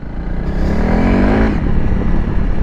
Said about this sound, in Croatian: u trećoj brzini na 4-5 tisuća okreta motor ide bokon